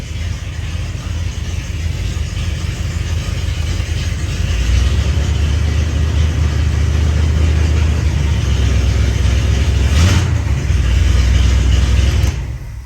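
A 1984 Oldsmobile Delta engine with open headers, rumbling loudly up close and rising into a heavier, sustained rev partway through before easing back.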